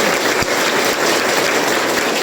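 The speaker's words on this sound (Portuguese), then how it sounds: "eu peço uma calorosa salva de palmas a esse homem" Applause from mourners at a funeral wake, a dense, steady wash of clapping that holds loud throughout, with no voices on top.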